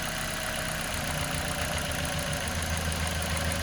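Toyota engine with a misfire stumbling and dipping in speed, nearly stalling after a cylinder connector is unplugged, a continuous close low rumble that roughens and sags without talk.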